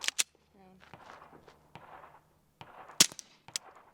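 Sharp suppressed shots from a SilencerCo Maxim 9 pistol, a few separate cracks spaced apart, with quiet talk and movement between them, one shot noticeably louder than the rest.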